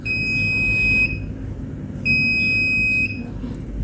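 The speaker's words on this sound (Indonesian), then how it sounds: "Kita coba tes fungsi alarm ya melalui smartphone." Electricity monitoring system alarm buzzer under test, two loud piercing one-second buzzes separated by a short pause, close, over a low background hum.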